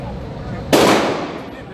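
A single loud, sharp gunshot from live firearms at a Texas shooting outing, close and abrupt with a decaying tail, over a background of ambient noise.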